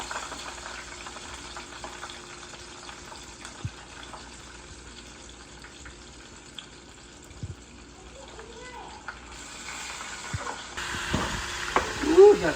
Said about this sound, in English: got the catfish frying.